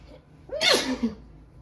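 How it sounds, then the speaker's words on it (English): A single loud, close sneeze with a sharp explosive burst and a short trailing breath after it, set against a quiet background. "I know it makes me sneeze"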